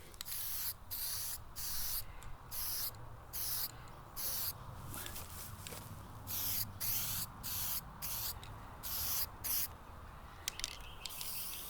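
Spray paint aerosol coating a Honda CBR250R MC19 exhaust, short hissing bursts in an irregular on-off rhythm, fairly close and alone with no talking.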